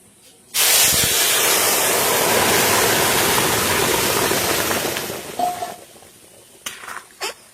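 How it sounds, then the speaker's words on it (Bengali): Lentil dal poured onto hot fried red garlic for jute-leaf masoor dal erupts in a sudden, loud, close sizzle. The sizzle holds for several seconds, then fades into softer bubbling with a few clinks. "এখন ডালটা ঢেলে দেবো।"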